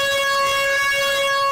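A loud, steady school siren wail at four in the afternoon, holding one sustained tone, close and unbroken for the whole moment.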